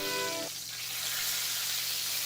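Steak sizzling hard in a hot pan while being flipped with tongs, a steady loud hiss throughout with a brief tonal hum fading out near the start.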